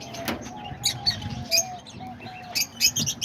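Caged lovebirds and finches chirping in a busy flock, with bright overlapping tweets and short calls coming in quick bursts close by.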